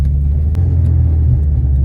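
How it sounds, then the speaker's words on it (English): A 250bhp Honda Civic Type R EP3 engine rumbles steadily up close, with a couple of faint, sharp pops over the low drone and no talking. "So the car pops and bangs, spits flames"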